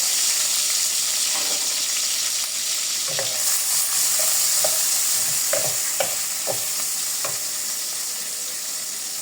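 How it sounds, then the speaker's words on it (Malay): Pumpkin and fern shoots sizzle and fry in a pan while a utensil stirs them, scraping and clicking at irregular intervals over a steady hiss, close and fairly loud. "Make sure bila kacau ni jangan sampai dia hangus."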